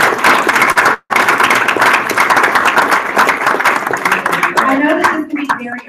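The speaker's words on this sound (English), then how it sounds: "can everybody give them a round of applause?" Audience applause fills a room, dense and close with scattered claps, fading toward the end as a voice begins over it.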